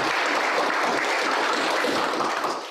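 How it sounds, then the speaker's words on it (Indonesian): An audience gives a dense, steady round of applause at a legal practitioners' sharing session, loud and close throughout with no voices rising above it. "Kita beri aplaus yang meriah dulu."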